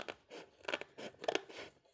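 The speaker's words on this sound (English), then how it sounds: "We'll come back in here with our scissors." Scissors snip through paper during a sketching session, several quiet, quick cuts in an uneven rhythm, close up and alone.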